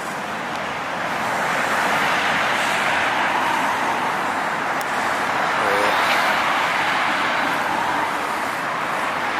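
Cars drive past on a road by a roundabout, a continuous wash of tyre and engine noise that swells and fades as vehicles go by, heard from close to the roadside with no talk.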